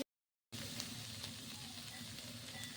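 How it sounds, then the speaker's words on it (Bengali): Garlic cloves and chopped ginger fry with onion in a pan, making a soft, even sizzle with faint crackles; the sound starts after a brief silence and stays low and steady. "পেঁয়াজটা একটু ভেজে নেওয়ার পরে দিয়ে দেব কয়েক কোয়া রসুন আর আদা কুচি, একসাথে।"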